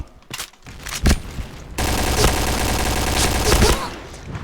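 AUG A3 rifle fire in the shooter game Point Blank: a few sharp shots, then a dense, loud run of rapid automatic bursts and clattering gunfire that trails off near the end.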